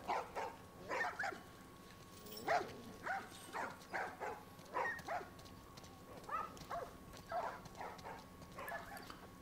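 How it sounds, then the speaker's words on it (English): Dogs in The Last of Us Part 1 bark repeatedly in a steady, evenly spaced series, sounding somewhat distant and moderately faint over low background hum. "These dogs are all accounted for."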